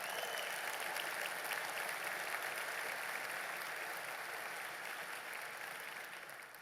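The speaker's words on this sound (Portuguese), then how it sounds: "Você pode aplaudir o Senhor, Ele é digno" A church congregation applauds in praise during a worship service, a steady, dense wash of clapping that holds evenly for several seconds before easing slightly at the end.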